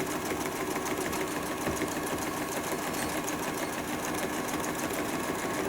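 Sewing machine doing free-motion stitching for bleachwork, the needle running in a steady, continuous rapid hum throughout without a pause, fairly close.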